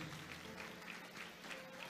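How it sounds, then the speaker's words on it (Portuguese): Church congregation applauding during a service, steady dense clapping heard faint and distant throughout, with no talk over it. "os que podem, tomem o seu assento, aplaudindo a Jesus, porque Ele é bom, porque Ele é maravilhoso."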